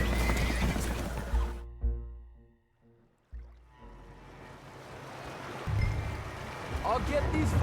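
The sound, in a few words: spooked horses whinnying on a boat in Red Dead Redemption 2 (video game)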